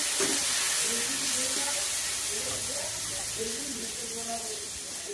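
Bitter gourd (karela) frying crispy in a generous amount of oil, a steady broadband sizzle and hiss throughout with faint stirring, while someone talks over it in a home kitchen.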